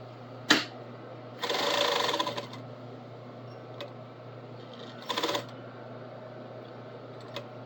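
A sewing machine stitches an apron in two short bursts, one about a second long and a shorter one later, with faint clicks between over a low steady hum.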